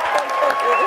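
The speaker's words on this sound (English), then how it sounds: "Let's all do it with an organized hand clap." An event audience claps together in an organized rhythmic hand clap, a brief, loud burst of crowd clapping with voices mixed in.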